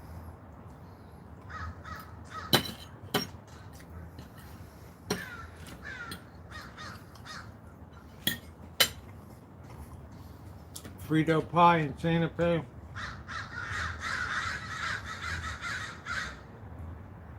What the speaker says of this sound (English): these crows drive me nuts here